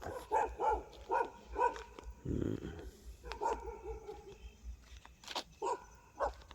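A dog barks repeatedly in quick bursts, with a rough, growling bark in the middle, fairly close and loud.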